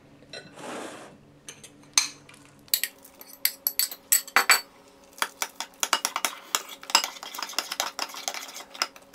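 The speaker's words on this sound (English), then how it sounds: "just pour it into your batter and mix it up" A utensil clinks and scrapes against a bowl in quick irregular strokes while mixing banana and cinnamon pancake batter, with soft stirring sounds and a brief rush early on.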